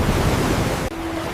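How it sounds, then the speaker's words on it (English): Rising river water rushing, a loud broad wash of flowing water that cuts off abruptly partway, leaving a faint steady hum. "The river is rising!"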